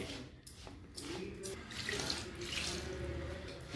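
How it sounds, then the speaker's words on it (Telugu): Water is poured a little at a time into rice flour to mix a dough for rice-flour garelu, giving a soft, continuous trickling splash close by at low volume. "కొన్ని కొన్ని నీళ్ళు పోసుకుంటే కలపాలి దీన్ని ఇలా నీళ్ళు పోసుకుంటా"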